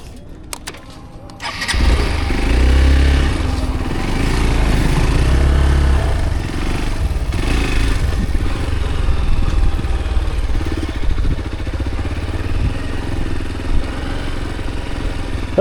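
A motorcycle engine starts after a short crank and settles into a loud, steady, close-up running rumble that continues without a break.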